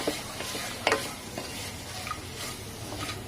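Mutton breast bone pieces stirred with water and Trichy-style spice powder in a pot for Tirunelveli soup, a soft steady scraping and swishing with a few sharper clinks of the spoon, close and fairly quiet, without talk.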